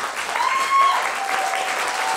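Applause from rival candidates at a student union vice-president election question time, a steady dense clapping wash lasting the whole moment, close and fairly loud with no voices over it.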